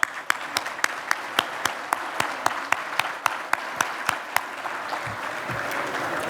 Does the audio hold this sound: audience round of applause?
yes